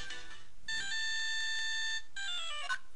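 A lost phone's ringtone chimes in the video game Phoenix Wright: Justice For All, a clean electronic melody of bright tones with a held note in the middle, playing alone.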